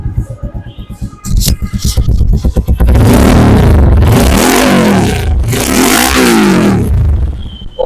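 A YCR 250RR sport motorcycle engine revs hard and loud, a few sharp throttle blips building into a sustained, rasping roar with no talking.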